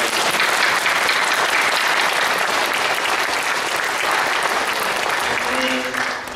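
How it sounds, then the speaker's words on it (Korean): A church congregation at a Maryland Easter sunrise prayer service claps in loud, continuous applause for a risen Lord, dense and steady throughout, with a faint voice emerging near the end. "다시 한번 부활하신 주님께 감사와 영광의 박수로 하나님께 영광을"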